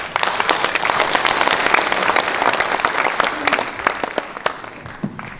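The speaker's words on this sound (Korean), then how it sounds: "여러분 큰 박수 좀 부탁드립니다." Audience applause at a Korean book launch event for a former county governor, sustained loud clapping from a seated crowd that fades slightly toward the end.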